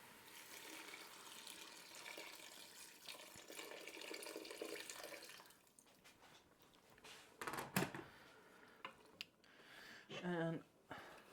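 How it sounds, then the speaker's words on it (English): Water is poured into a cooking pot holding sautéed tomato puree, heard as a brief splashing pour late in the clip after a stretch of noisy kitchen activity and faint talk. "And we'll add some water."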